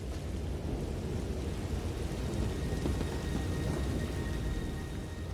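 Heavy rain pours steadily in a thunderstorm, with deep rolling thunder rumbling beneath the constant hiss of the downpour throughout.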